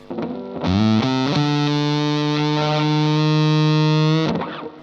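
An electric guitar lick through an Atom germanium-silicon hybrid fuzz pedal: a few quick rising notes slide into a long, thick, buzzing sustained note that rings out before cutting off.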